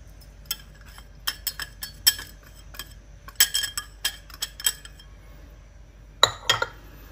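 Sugar and tapioca flour stirred together in a bowl for steamed brown-sugar talam, with irregular clinks and taps of a utensil against the bowl, close and moderately loud, with a quicker cluster near the end and no talking.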